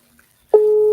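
Outgoing telephone call ringback tone starting halfway through, a steady loud sustained tone after near silence.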